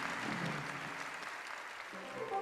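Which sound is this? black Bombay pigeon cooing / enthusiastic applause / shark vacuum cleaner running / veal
enthusiastic applause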